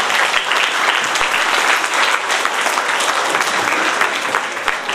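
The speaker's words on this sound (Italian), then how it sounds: "il terzo e ultimo applauso che vi chiedo è proprio dedicato a loro" Crowd applause fills a November 4 commemoration ceremony in Agropoli, Italy, with steady, dense clapping from a large gathering that continues loudly and evenly throughout without a break.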